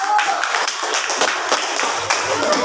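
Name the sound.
class applause for a group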